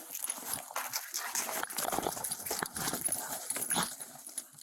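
A police K-9 dog during a house search by Phoenix police, with scrabbling, clattering movement and dog sounds close by amid rustling noise.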